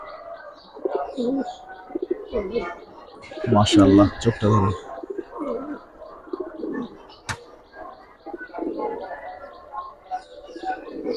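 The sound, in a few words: giribaz pigeons cooing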